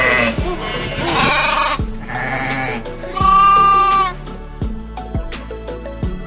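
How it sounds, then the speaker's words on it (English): A sheep bleats in long, wavering cries, one after another, loud and close with no talk over them. "Sheep."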